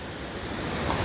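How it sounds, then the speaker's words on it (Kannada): Water flows at Ayyanakere Lake in Chikkamagaluru, a steady broadband rushing wash with some wind noise, constant and fairly close throughout the short stretch. "ಅಲ್ಲಿ ನೀರು ಹರ್ಕೊಂಡು ಹಂಗೆ ಹೋಗುತ್ತೆ"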